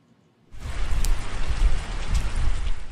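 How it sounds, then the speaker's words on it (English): Steady heavy rain falls as a dense, continuous hiss with low rumbling drops, starting suddenly after a brief silence and then holding loud and constant. "Rain has kept games away from the softball diamond today"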